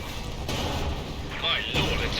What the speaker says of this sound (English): Sexton's going for a close range barrage.